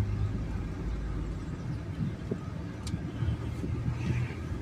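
A car drives along a detour route through Sosnowiec, its steady engine and road noise continuous and fairly close, with no talk.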